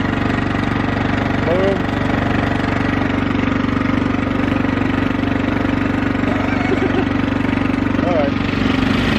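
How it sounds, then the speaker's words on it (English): A lawnmower tractor engine runs steadily nearby with a constant low, buzzing drone, while a person speaks briefly over it. "It's not a real tractor, you know. It's a lawnmower."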